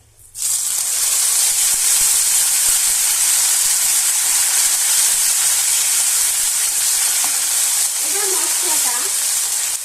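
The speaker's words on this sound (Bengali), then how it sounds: "এবার এর মধ্যে আমি দিয়ে দেব যে টমেটো, আদা, লঙ্কাটা পেস্ট করে রেখেছিলাম ওই পেস্টটা।" Tomato, ginger and green chili paste hitting hot spiced oil for a vegetarian cauliflower curry, bursting into a loud, steady sizzle and hiss right after a quiet start, with faint stirring near the end.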